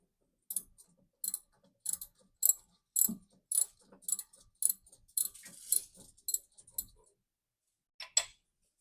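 A Gator Grip universal socket works a bolt loose with a run of sharp, quiet ratcheting clicks in about a dozen evenly spaced bursts, then a pause and one final click, close up with no talking.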